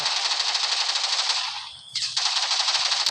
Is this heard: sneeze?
no